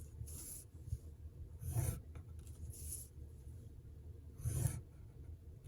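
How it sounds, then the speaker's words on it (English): Scoring tool pressed and drawn along paper for an exploding box mini album, giving two soft scraping strokes with pauses between, close and quiet with no talk. "I'm going to take my score tool and just go ahead and score this all the way around"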